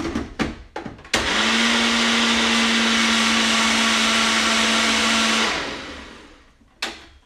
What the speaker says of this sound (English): plug in my blender